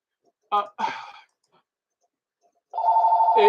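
A telephone rings with a steady buzzing trill that starts near the end, loud and close, after two short bursts of voice sounds.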